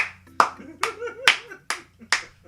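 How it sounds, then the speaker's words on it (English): Slow, deliberate hand claps, about six sharp claps spaced evenly, with a voice speaking softly between them. "Slow clap."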